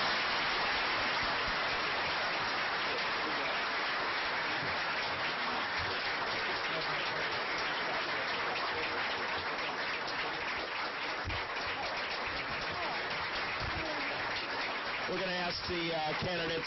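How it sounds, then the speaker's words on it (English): Sustained audience applause for the candidates at a U.S. Senate primary debate, a steady wash of many hands clapping heard from a distance, fading slightly near the end as a voice begins. "Let's give them a round of applause."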